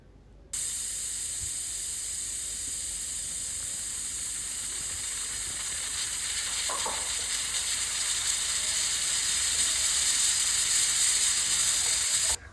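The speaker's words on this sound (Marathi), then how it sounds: "मीडियम गॅसवर कुकरच्या 3 ते 4 शिट्ट्या करायच्या" A pressure cooker holding mutton on a medium flame lets off a loud, sustained, high-pitched steam hiss that runs steadily and close up from start to end, with faint clatter in the background.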